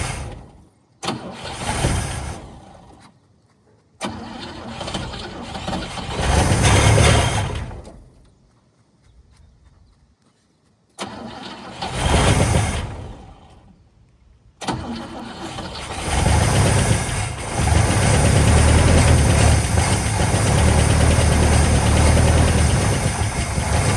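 A 1959 Cadillac that has sat unused for years cranks in several separate bursts, with pauses between them, then catches and settles into a loud, steady idle that runs to the end.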